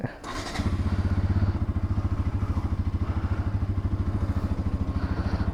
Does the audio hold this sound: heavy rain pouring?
no